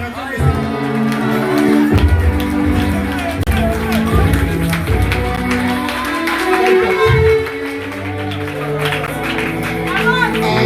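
A church congregation cheers and acclaims the Lord, a loud crowd mixing shouts, whoops and clapping over a continuous musical backdrop, with voices rising and falling throughout.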